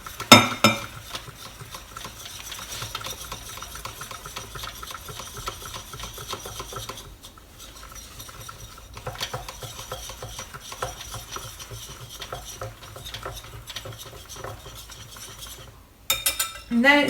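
Pancake batter stirred into a thick paste in a jug, heard as continuous close scraping and rhythmic whisking against the sides, pausing briefly near the end before resuming.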